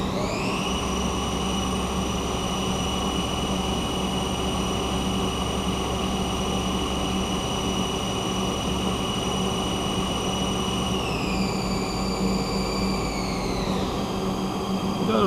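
Haas CNC lathe spindle spinning steadily with coolant flowing, a constant whine and hiss with high tones that step down in pitch toward the end as the spindle slows.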